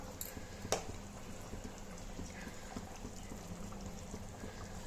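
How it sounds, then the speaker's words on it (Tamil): Steady low bubbling and simmering of eggplant curry in a pot, continuous and fairly quiet, with a brief clink near the start. "இந்த மாதிரி கொதிக்க ஆரம்பித்ததும்"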